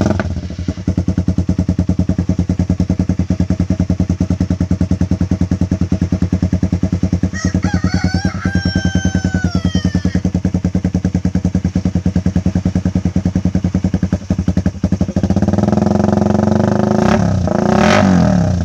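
A Suzuki Raider 150 motorcycle fitted with a HiSpeed open pipe exhaust idles loud and close with a steady rumble, then revs up sharply near the end, alongside a brief high whistling sound partway through.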